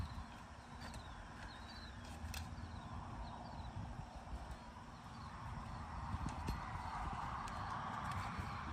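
A horse shifts its feet while its hooves are being handled, giving soft, scattered clip-clops over quiet outdoor background with faint bird chirps.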